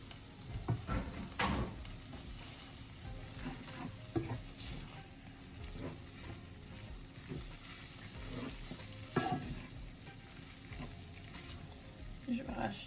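Homemade fettuccine is tossed and stirred in a pan of sizzling creamy fennel, tomato and caper sauce, with irregular scraping and wet slapping over a steady frying hiss.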